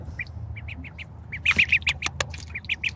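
A bathing duck quacks in a quick run of close, raspy calls, growing busier midway, over a steady low wash of water with no talk.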